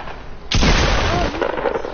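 A single loud video game gunshot bursts in about halfway through, a sharp broadband blast that rings out with a rumbling tail before the clip ends.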